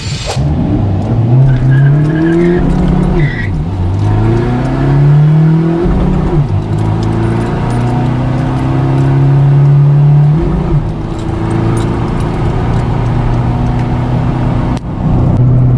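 A remapped Ford Ranger with a 2.2 T6 engine and an exhaust fitted, loud and close, its engine note rising and falling through repeated revs and gear changes while driving, no talking.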